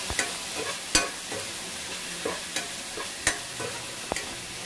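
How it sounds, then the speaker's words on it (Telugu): Vegetables for a restaurant-style vegetable dum biryani being stirred in a pot, with a faint sizzle underneath and several sharp scrapes and knocks of the spoon against the pot at an irregular pace, close by, no talking. "ఇప్పుడు వీటన్నిటిని మిక్స్ చేసుకోవాలి।"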